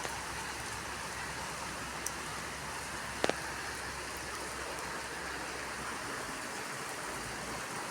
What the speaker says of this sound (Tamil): மழை ஆனால் விடாமல் தான் பெய்கின்றது